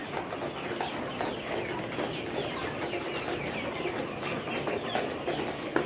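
Layer hens on a poultry farm in winter cluck and chatter steadily as a dense, continuous flock din, with no pauses and no talking.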